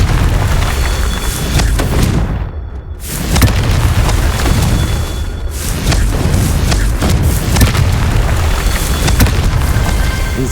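A fire-spell blast in the Hogwarts Legacy video game erupts as a loud, sustained booming roar with crackling, splintering debris, with brief dropouts and a second burst midway.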